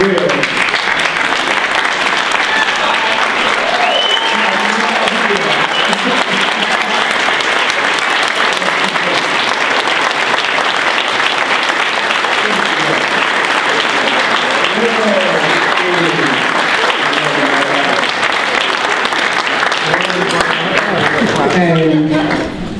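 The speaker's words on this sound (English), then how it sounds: "stand up and give her a round of applause" A gala audience rises in standing applause, a loud, dense and unbroken roar of clapping with scattered cheers and voices mixed in, holding strong for over twenty seconds before it fades.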